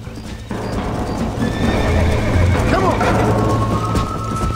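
A horse in the Red Dead Redemption video game whinnies loudly over steady clip-clopping hooves and outdoor game ambience, with voices speaking in the background.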